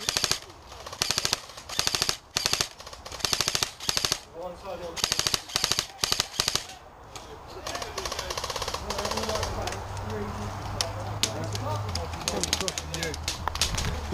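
Airsoft guns fire at an outdoor game in repeated rapid bursts, sharp and fairly close, then fade into quieter ambience with a faint hum; voices talk over parts of the scene.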